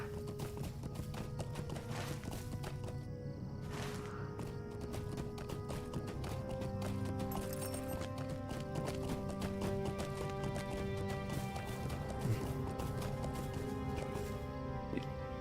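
Horse hooves gallop in rapid, rhythmic clip-clop during a horseback run in the online game Lord of the Rings Online, steady and fairly quiet over a background of game music.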